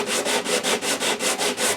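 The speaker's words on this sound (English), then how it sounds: "there is a slip of leather on underneath the sandpaper, and it just naturally flexes as I'm sanding and follows this" Sandpaper on a narrow block backed with a slip of leather, sanded back and forth along a wooden fingerboard during a Gurian guitar restoration: steady rhythmic rasping strokes, about four per second, close and loud, with no talk.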